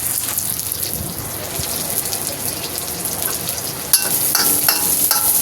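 Garlic sautéing in a frying pan, a continuous close frying hiss with occasional stirring clinks and a sharper scrape partway through, steady and without talk.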